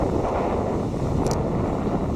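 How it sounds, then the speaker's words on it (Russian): Storm waves and strong wind at a pier seen from about two or three storeys up, a loud continuous roar of wind buffeting with surging water beneath, no talking. "волна почти на нас доходит"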